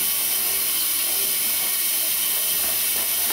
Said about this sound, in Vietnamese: Mình đổ ra rá nha. Sau đó xả lại bằng nước nóng để cho nó săn lại cái phần